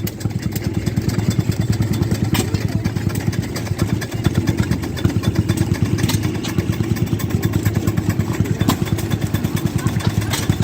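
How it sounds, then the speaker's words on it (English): A small homemade steam tractor at an antique power show chugs steadily with a fast, rhythmic clatter of pistons, running continuously close by with no talking. "This a little homemade steam tractor."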